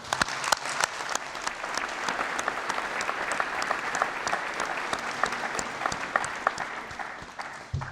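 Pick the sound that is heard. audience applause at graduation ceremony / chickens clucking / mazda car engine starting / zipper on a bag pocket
audience applause at graduation ceremony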